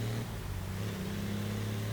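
Diesel-powered German truck engine in Forza Motorsport 6, a steady low droning hum with sustained tonal harmonics, constant and fairly loud throughout with no talk.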